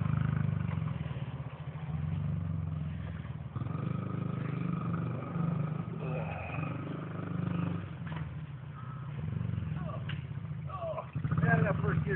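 A 2003 Honda XR50 mini dirt bike idles and runs steadily nearby, a continuous low buzzing drone with slight revs, while people talk over it.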